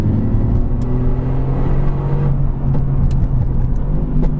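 A tuned 2018 Mercedes-AMG GT R accelerates hard, a loud continuous engine roar with a steady low drone and whir heard close, no talk over it.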